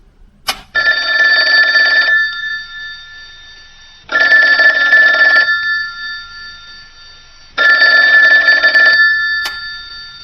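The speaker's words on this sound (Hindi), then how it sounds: "अचानक फोन की घंटी बजी।" A telephone bell rings loudly in three long bursts separated by short pauses, clear and close, with nothing else in the background.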